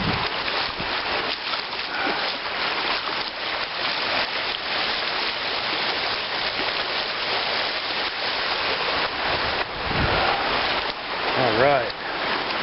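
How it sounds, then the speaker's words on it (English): Someone wades across a shallow, cold wilderness river, the stream rushing and splashing loudly and continuously around the legs, with churning water filling the whole stretch and a slight surge near the end. "River crossings can be dangerous, but this one happens to be shallow enough right here where I can walk across."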